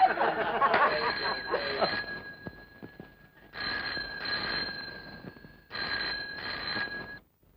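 A telephone rings in repeated bursts, a bright electronic trill with pauses between, after some brief voices and laughter at the start.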